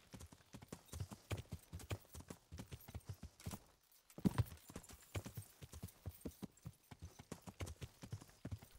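Horse hooves clip-clop steadily in Kingdom Come Deliverance, a brisk continuous rhythm of fairly close footfalls with a short pause midway, with faint talk in the background.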